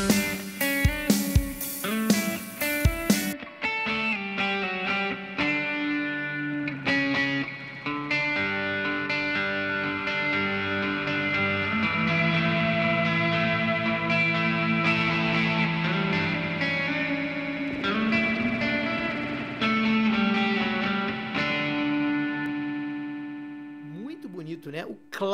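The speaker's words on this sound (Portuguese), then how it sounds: "É o clássico reverb de mola." Electric guitar played through the Hornet Molla spring reverb plugin, a free digital spring reverb effect: sustained chords and picked notes with a long, splashy reverb tail, loud and continuous, ending as the sound fades out.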